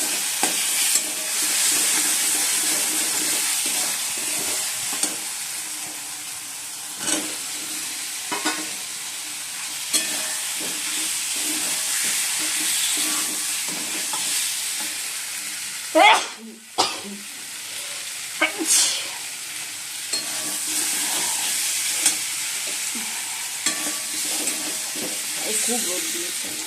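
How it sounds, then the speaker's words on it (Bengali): Spices for egg curry fry and are stirred in a pan, a steady sizzling hiss with occasional spatula scrapes and knocks, and a few louder clatters partway through. "মশলা ভালোভাবে কষিয়ে নিতে হবে।"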